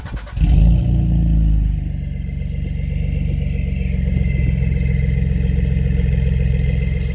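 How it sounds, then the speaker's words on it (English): A lifted 2012 Ford F-150 EcoBoost V6 with an MBRP mid-cab exhaust and off-road downpipe revs hard, a loud raspy surge near the start easing into a steady, rumbling idle for several seconds, no talking. "If you floor the truck, you get the kind of high, raspy sound of a V6"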